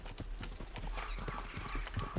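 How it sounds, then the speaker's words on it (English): Horse hooves gallop in a rapid, steady clip-clop rhythm in a video game, close and fairly quiet, alone without talk. "My horse is substantially faster than yours."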